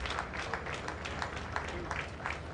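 A church congregation applauds in praise, a continuous round of clapping at moderate distance with a faint murmur of voices beneath.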